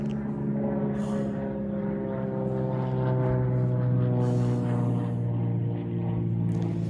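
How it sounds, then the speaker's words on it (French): A propeller airplane passes overhead, its loud, steady droning hum with layered engine tones holding strong and close for the whole stretch, with no one talking. "Donc là, il y a un avion qui passe au-dessus de moi. Je l'entends plutôt fort"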